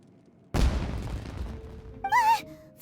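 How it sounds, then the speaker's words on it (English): A single sudden firework-like blast erupts in the Genshin Impact game, a booming crack that rolls off into a crackling tail before a bright whistling chime rises at the end. "Was that an explosion? It sounded like fireworks."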